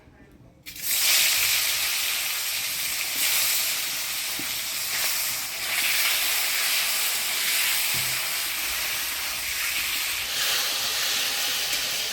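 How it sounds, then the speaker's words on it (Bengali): Local catfish (magur) hits hot oil in a wok, bursting into a loud, steady hissing sizzle after a brief quiet start and continuing strongly to the end without talk. "কড়াই গরম হয়ে গেছে দিয়ে দিব তেল এবার মাছগুলো ভাজি নেব"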